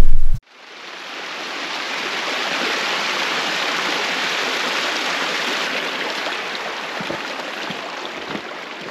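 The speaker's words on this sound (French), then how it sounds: "On a rechargé les gourdes dans cette belle petite cascade." A small mountain waterfall in the Haut Verdon gushes in a steady, loud, close rushing hiss, beginning after a brief cut at the start and holding constant throughout.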